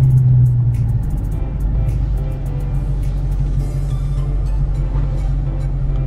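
A 2019 Dodge Charger Scat Pack with a catless mid-pipe cruises along, its exhaust a steady, loud, deep drone heard from inside the car with light rattles and road rumble.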